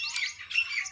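Several birds chirp and tweet outdoors in the morning, bright overlapping calls close by with a rural farmyard setting, steady and moderately loud with no talking.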